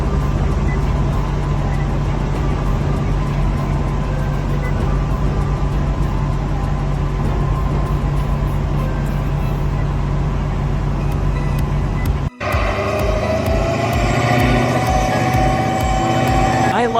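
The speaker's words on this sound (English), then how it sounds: "where the truck is at full throttle, even the slightest reduction in speed could lead to getting stuck" A heavy truck's engine works at full throttle to keep moving without getting stuck, a loud continuous low drone that breaks off abruptly near the end before resuming with a rougher, brighter tone.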